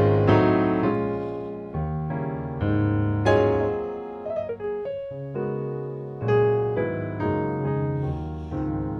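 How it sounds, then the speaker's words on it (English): Sampled Australian grand piano from the UVI Key Suite library playing a series of rich chords and melodic notes, clear and resonant, each chord sustaining and decaying alone. "So what you're hearing now is the Australian grand."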